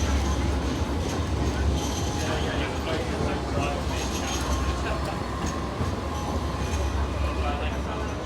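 A Sydney light rail tram in special Lunar New Year livery rolls past on a city street, a sustained low rumble and rail noise under ambient street bustle.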